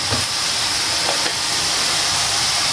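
Green chillies and chopped onions sizzle in hot oil for a curry of drumsticks and eggs, a steady close hiss of frying with faint stirring clicks, no voices.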